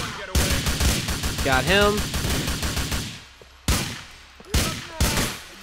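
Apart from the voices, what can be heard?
Desert Eagle pistol gunfire in Grand Theft Auto video game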